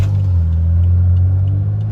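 A straight-piped BMW F10 idles close by with a loud, deep, steady exhaust rumble, holding an even burbling tone for the whole stretch with no talking.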